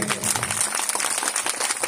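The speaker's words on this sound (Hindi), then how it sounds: "ताली बजाइए।" Scattered audience clapping at a ribbon-cutting during a Vishnu Mahayagya gathering, a short dense patter of many hands at moderate loudness, with faint voices underneath.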